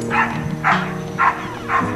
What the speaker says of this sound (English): Ferocious dog. The dog of dogs.